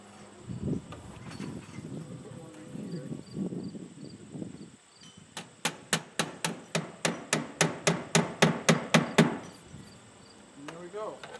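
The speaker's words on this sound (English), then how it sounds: "Careful not to dent your soffit material with the hammer." Hammer driving screws through gray flashing on vinyl siding, steady rhythmic run of about fifteen sharp, loud strikes that quicken slightly, preceded by muffled handling noise and rustling.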